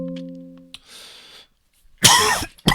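A couple of harsh, close coughs after a short hum and some quiet rustling, the second cough brief and abrupt.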